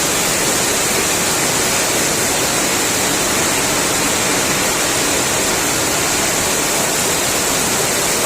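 Heavy monsoon rain pours off roof eaves, a dense, steady hiss of falling and splashing water that stays loud and unbroken throughout, with no voices.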